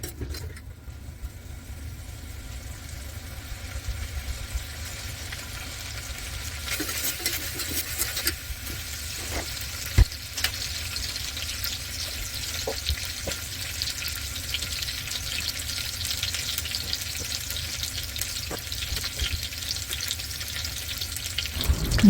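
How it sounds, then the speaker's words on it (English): Onions, spices and ginger garlic paste fry in a pot as they are stirred, a steady close sizzle running throughout with occasional scrapes and clinks of the spoon. "give it a good stir and let everything fry together until onions get caramelized"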